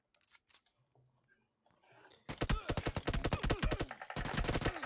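Rapid automatic gunfire in PUBG Mobile breaks out after a quiet stretch, a dense run of sharp loud shots that keeps going steadily to the end.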